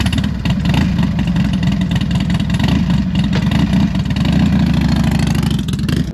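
A motorcycle engine being prepared for Sturgis runs steadily up close, idling with a dense low rumble and rising into brief revs over about six seconds, loud and continuous with no talk.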